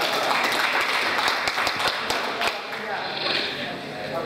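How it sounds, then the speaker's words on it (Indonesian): Applause at an Indonesian language and literature program event, with a crowd clapping in sharp individual claps at first, then thinning and fading, while voices murmur underneath. "Tepuk tangan."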